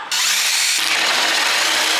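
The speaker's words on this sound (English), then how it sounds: "So I'm going to drill the hole there now." Power drill boring a roughly 10 mm-off-the-bottom hole through a thick plastic water tank in a Luton box camper conversion: a loud, close, continuous high whine with gritty cutting noise that holds steady throughout.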